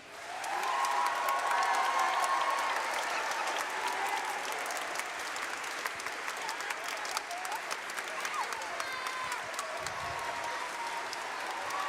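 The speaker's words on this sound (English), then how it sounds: "let's give a round of applause to Mr. Stroud." A school spring concert audience for grades K-2 applauds warmly, a broad, steady wash of clapping that starts quickly and holds for the whole stretch, with scattered cheers and murmurs underneath.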